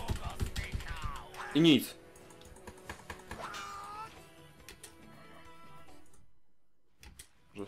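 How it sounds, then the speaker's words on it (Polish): Rapid computer mouse clicks, tapped repeatedly on a frozen PC game of The Witcher Enhanced Edition, come in a quick run of sharp ticks mixed in with someone talking close by. "słyszycie nawet, że klikam"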